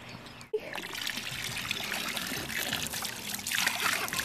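Water trickles and splashes softly in a pool, a steady close dribble with a brief sharp splash near the start and brighter splashing toward the end.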